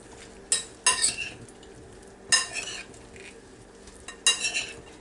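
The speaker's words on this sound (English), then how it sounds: "Get everything stirred up together." A spoon stirs a fruit salad of honeydew, cantaloupe, cranberries and raisins in a bowl, three separate bursts of clattering, scraping strokes with quiet pauses between.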